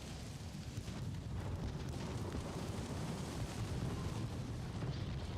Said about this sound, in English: 8-inch shell hit there on the front, I think.